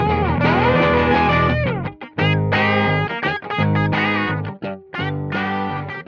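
A Surf Green Telecaster runs through an NRG Effects PUMPER-072 overdrive pedal into a small 4-watt valve amp, playing loud overdriven chords and riffs in short phrases separated by brief pauses.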